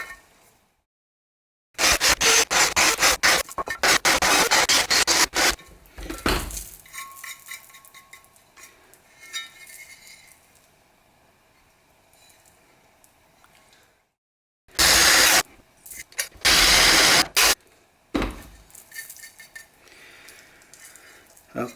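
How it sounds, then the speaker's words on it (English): Metal enclosure for a DIY guitar attenuator being drilled with a 9mm bit, several loud harsh bursts of grinding drilling separated by pauses and quieter handling clatter. "Okay, that's all the drilling done."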